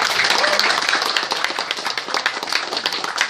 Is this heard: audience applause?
yes